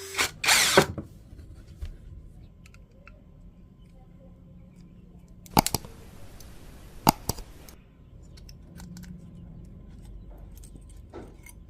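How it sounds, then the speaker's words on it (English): A power drill cutting open an old battery whirs in a few short, loud bursts, separated by quiet stretches with faint clicks and handling noise. "here I'm using a drill and a small saw to make the process faster and easier"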